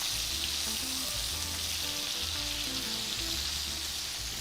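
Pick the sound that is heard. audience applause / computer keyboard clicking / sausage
sausage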